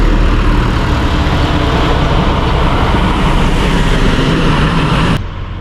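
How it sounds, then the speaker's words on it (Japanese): Steady, loud roar of continuous traffic, trucks and cars, streaming along a trunk road beside a highway service area rest stop where camper vans are parked, dense and unbroken until it drops off sharply near the end. "もう後ろがこんな感じで幹線道路で車がずっと流れてます。"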